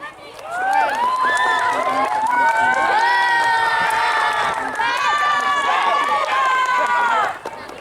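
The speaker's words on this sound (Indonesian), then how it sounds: "tepuk tangan dong buat olahraga" A crowd at a scout jamboree stage event cheers, whoops and claps after a tug-of-war game. Many overlapping voices shout loudly and continuously, swelling in the middle before fading at the end.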